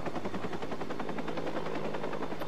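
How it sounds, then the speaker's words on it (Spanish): Video game helicopter in Watch Dogs, its rotor beating in a fast, even thudding rhythm over a low mechanical drone, close and steady with no voices. "Cabrón, helicóptero."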